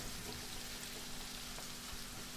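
Sliced aubergine, courgette and leeks fry in a hot pan, giving a steady, soft sizzle and crackle with no talking.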